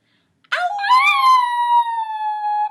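A black dog howls alone at close range, one sustained, wavering howl that starts with a sharp rise, holds steady and stays loud to the end.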